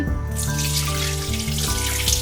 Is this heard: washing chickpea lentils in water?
yes